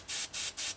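Three short, even bursts of aerosol spray paint, laid down in quick succession during a Kryptek-style camo job on an airsoft rifle, each a loud, close hiss with brief gaps between.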